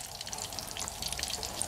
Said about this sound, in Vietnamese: Lấy dầu mới nhá, hay chiên dầu này.